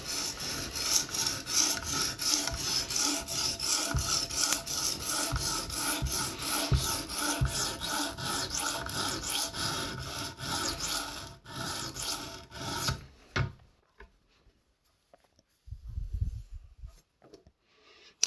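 Chef knife being sharpened on an Edge Pro Apex stone, a steady close gritty rasping of steel on the stone in long repeated strokes for about thirteen seconds, then near quiet with a few faint soft scrapes.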